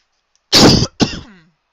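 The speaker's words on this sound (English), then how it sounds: "I'm sorry about the coughing." A person coughs and clears their throat in two close, loud bursts during a Pathfinder tabletop game session, with no talk.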